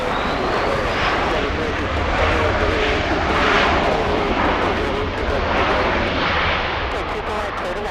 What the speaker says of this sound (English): looks like the Polish 787 is on the move